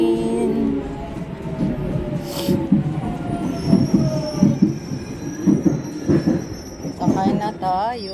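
A train pulls into a station, its wheels squealing and a high metallic tone rising over a steady rumble of carriages, with a brief burst of hiss partway through and voices faintly audible around it.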